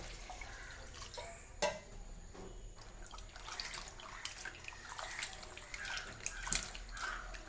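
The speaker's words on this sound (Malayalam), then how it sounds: "നമ്മളിങ്ങനെ വെള്ളം തെളിഞ്ഞ് വരുന്നത് വരെ നമുക്കിത് കഴുകിയെടുക്കാം കേട്ടോ." Dried tapioca pieces are washed in water, giving quiet, close splashing and dripping with small sloshes and a few sharper knocks throughout.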